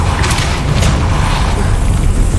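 Depulso force spell cast in the video game Hogwarts Legacy, a loud, dense booming burst with rumbling low end that fills the whole moment without speech.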